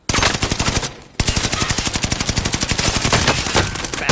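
Loud automatic gunfire in a shooter video game: a brief burst, a sub-second gap, then a long steady stream of rapid, evenly spaced shots up close, with no talking.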